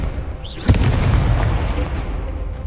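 A Confringo blasting spell goes off in Hogwarts Legacy, one sharp booming burst early on that trails into a dense rumbling roar lasting to the end, loud and close.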